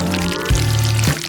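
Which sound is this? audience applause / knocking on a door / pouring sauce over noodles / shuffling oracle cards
pouring sauce over noodles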